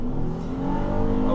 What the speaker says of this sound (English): now I'm about to give it some gas, see what this thing's all about